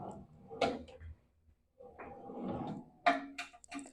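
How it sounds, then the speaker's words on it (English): A storage drawer in the stand of an Envi gaming chair slides open and shut, giving short scraping and knocking bursts with a quiet pause between them and a clack at the end. "You also have a felt lined drawer that pulls out here as well."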